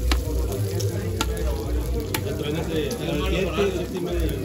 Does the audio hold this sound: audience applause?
no